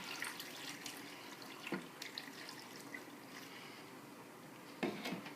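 Water trickles and splashes softly into a pan with sugar for cooking peaches, a faint running pour with a few louder splashes.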